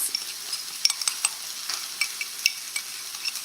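Italian seasoning being stirred and mixed by hand in a kitchen while pork tenderloin with greens is prepared, a steady run of soft scraping and light clinking strokes, close and fairly quiet, with no talking.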